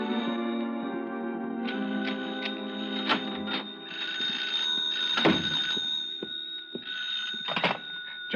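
A telephone rings in an old-time radio detective drama set around a hotel room, sounding a couple of sustained bell trills with brief gaps, followed by a receiver being picked up amid light studio noise.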